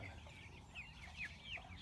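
Pasture chickens cluck softly in short, scattered calls over a quiet outdoor hum, a few faint rising notes standing out at a distance.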